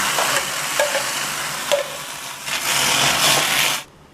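Ground sago dropped into a hot wok and stirred, a close, steady frying hiss punctuated by several sharp scrapes of the spoon, growing louder toward the end before cutting off abruptly.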